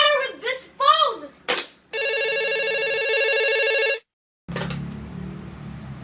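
A malfunctioning telephone line gives a steady, loud electronic tone lasting about two seconds, set between a woman's anxious spoken words before it and a low buzzing line noise after it.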